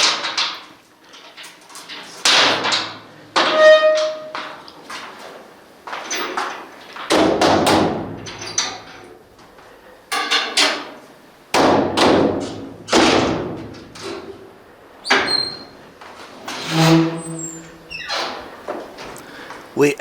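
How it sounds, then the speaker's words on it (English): The keeper of an Egyptian tomb bangs on its door before opening it, producing a series of heavy irregular thuds and knocks with pauses between them, loud and close. "We asked the keeper of the tomb why he banged on the door before he opened it"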